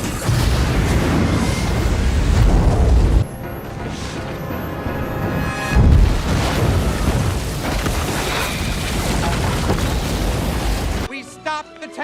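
A missile strike in an action film set in a Victorian-era adventure: a heavy, roaring blast rumbles loudly for several seconds, followed by a second booming burst and scattered debris before a sudden cutoff.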